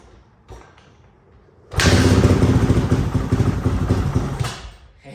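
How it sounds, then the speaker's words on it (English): A 2008 Honda CRF450R Works Edition replica dirt bike, cold-started on choke with no throttle, fires up abruptly after a faint thump and runs loud and raspy for about three seconds before dying away. "Got it to fire up, even though it's just for a couple seconds."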